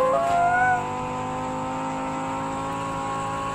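Car driving through a tunnel in Roblox, a steady loud engine drone with a brief high whine at the start that settles into an even sustained tone.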